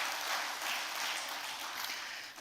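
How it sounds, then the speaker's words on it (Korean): A church congregation at a women's mission dedication service applauds the guest pastor with a soft, continuous wash of clapping that sounds distant and faint for a couple of seconds. "말씀을 전해주신 문대인 목사님께 우리 다시 한 번 더 박수해 주시면 감사하겠습니다"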